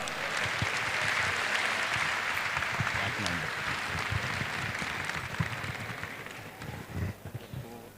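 An audience at a university convocation ceremony applauds in a dense, continuous roar of clapping that stays strong before thinning out toward the end, with scattered louder claps standing out.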